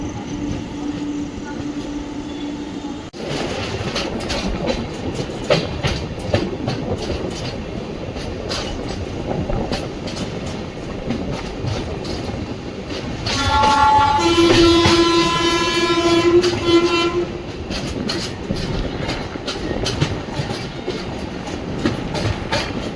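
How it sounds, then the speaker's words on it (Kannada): An express train with new LHB coaches rumbles steadily with rhythmic clickety-clack near Gadag Junction, and partway through a loud, sustained horn blares for a few seconds over the running noise. "ಮೈಸೂರು ಅಜ್ಮೀರ್ ಸ್ಪೆಷಲ್ ಟ್ರೈನ್ನ ನಾವು ಓವರ್ಟೇಕ್ ಮಾಡ್ಕೊಂಡು ಹೋಗ್ತಾ ಇದ್ದೀವಿ ಗದಗ್ ಜಂಕ್ಷನಲ್ಲಿ"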